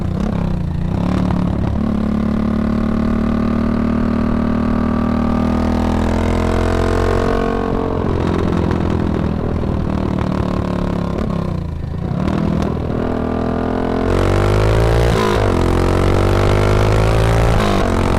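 A Ducati motorcycle fitted with a CR exhaust system runs loud and close. Its harmonic engine note rises and falls through several throttle sweeps, dips briefly between revs and climbs again near the end.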